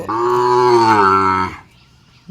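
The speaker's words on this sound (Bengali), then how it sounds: "শাহিওয়াল ষাঁড় এবং বকনা একটি গরু" A single loud, close moo from Sahiwal cattle at a dairy farm, deep and drawn out for over a second, then quiet.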